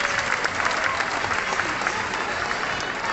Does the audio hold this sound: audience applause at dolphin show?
yes